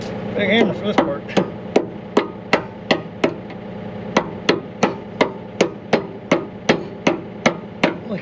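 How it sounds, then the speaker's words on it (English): Heavy hammer strikes on a pivot pin of a John Deere dozer blade, a steady series of about twenty loud, sharp metallic blows at a near-regular pace, close by with no talk. "Big hammer for this part."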